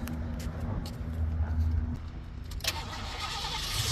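A 1986 Ford Mustang Cobra GT 5.0 engine cranks and catches, then settles into a steady idle, heard close up with no talking.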